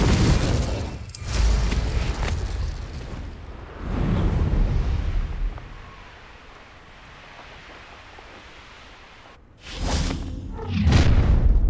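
Spell explosions in the Hogwarts Legacy video game go off as a few heavy booming bursts with whooshing tails, separated by quieter stretches of low rumble, loud and alone without speech.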